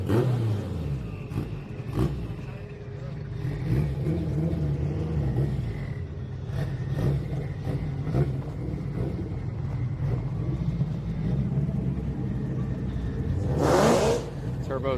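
A turbocharged Honda Civic revs at a Houston drag strip during a street night, its engine rumbling steadily before a loud surge near the end, with wind buffeting and trackside voices underneath.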